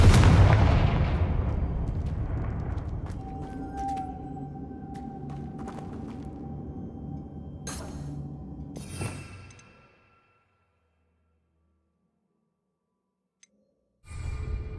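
Confringo fire spell blasts in the PC game Hogwarts Legacy, a heavy booming explosion that decays into crackling rumble and tonal magic effects, then cuts to near silence before another burst begins.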